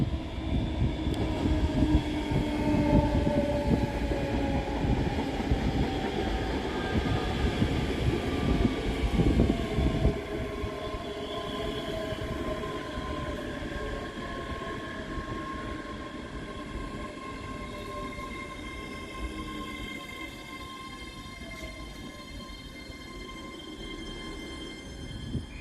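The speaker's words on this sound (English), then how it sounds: "arriving on the near side is 385107 and 385104, with the 1832 Scotrail service from Glasgow Queen Street to Edinburgh Waverley" A pair of coupled ScotRail class 385 electric units pull into Edinburgh Haymarket station, a loud rumble easing after ten seconds into a softer hum with drawn-out brake squeals gliding down as the train slows.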